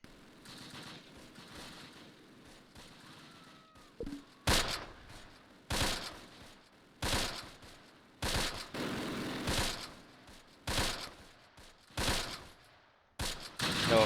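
Repeated bursts of gunfire in the Close Combat video game, about nine sharp loud volleys spaced roughly a second or so apart over a low background rumble, each burst short and crackling, with no talking.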